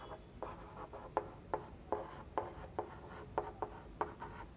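Chalk or marker strokes on a board during a maths lesson make a quiet, rhythmic series of short scratchy taps and rubs, about a dozen in quick succession.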